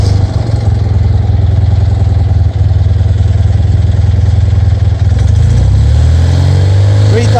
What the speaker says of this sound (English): And now I'm just going to rev it up a little bit.